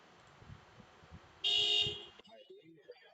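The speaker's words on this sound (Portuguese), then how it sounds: "Boa, buzina mesmo." A single car horn honks for about half a second, loud and close, after a quiet stretch of low background noise.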